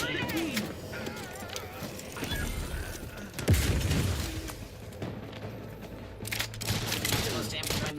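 Gunfire in the video game The Outer Worlds 2, with rapid bursts and booms running throughout, a heavy impact near the middle, mixed under a steady game soundscape and occasional voices.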